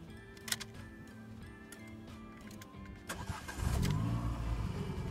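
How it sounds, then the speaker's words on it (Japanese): A Renault Clio 3 engine cranks and catches, rising into a steady idle rumble after a few faint ticking clicks. "ちょっとエンジンかけてみますね。"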